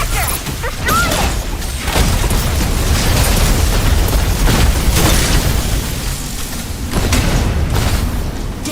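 Explosions in the mech game Mecha Break as an extractor is destroyed, a loud continuous barrage of booms, bursts and mechanical rumble with repeated impacts, close and dense.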